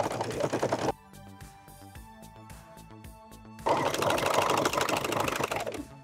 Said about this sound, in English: And now we're ready to sew that together.